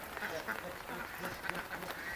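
Farm ducks in a village quack faintly and intermittently at a distance, mixed with low background murmur and ambient noise.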